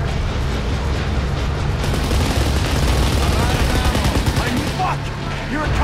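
Dense automatic gunfire from the video game Kane and Lynch rattles continuously at close range, with bursts overlapping and loud throughout, while voices shout beneath the shooting.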